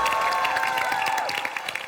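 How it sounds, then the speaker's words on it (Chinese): Audience applause on a Chinese debate talk show stage greets a debater, a brief burst of clapping and crowd noise blended with bright music. "掌声给他"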